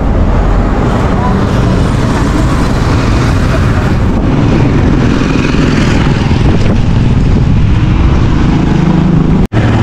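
A motorized tricycle on a Philippine road gives a loud, steady engine drone mixed with road rumble, heard close from onboard, with a sharp click near the end.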